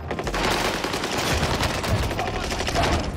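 Sustained rapid automatic gunfire from the Call of Duty Warzone video game on Rebirth Island, loud and continuous bursts that keep on without a break.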